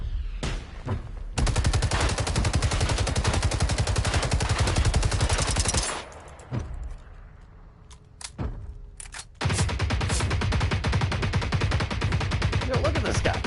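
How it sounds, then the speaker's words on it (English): Generation Zero enemy robot unloading rockets and machine-gun fire at once, a dense, loud, sustained volley of rapid shots and blasts that breaks off briefly midway with scattered single bangs, then resumes at full intensity. "Shooting rockets and his machine gun at the same time."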